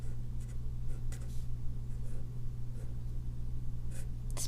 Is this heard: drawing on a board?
yes